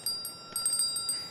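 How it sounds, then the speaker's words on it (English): Magic bell chime in the video game Life is Strange: True Colors: a run of bright, ringing bell strikes in quick irregular succession, clear and close, with sustained shimmering tones and no talking. "Magic bell! I'm so glad we got that."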